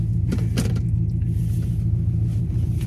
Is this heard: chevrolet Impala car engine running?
yes